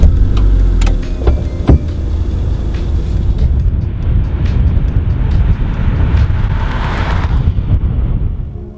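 A 2015 Acura TLX on the road, with a steady, loud rush of engine and road noise that holds throughout and a few sharp knocks near the start.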